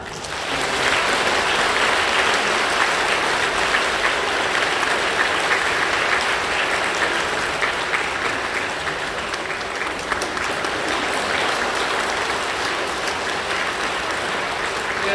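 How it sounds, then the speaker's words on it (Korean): A church congregation at a baptism during a Korean Full Gospel service claps warmly in celebration, a dense, loud and sustained wash of applause filling the hall for the whole stretch. "우리 모든 성도님들 아주 뜨겁게 또 축하하며 박수해 주시기를 바랍니다"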